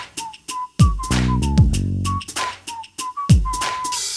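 A sung song with whistle-like tones imitating a referee's whistle, several short high whistle notes over rhythmic music with percussive beats.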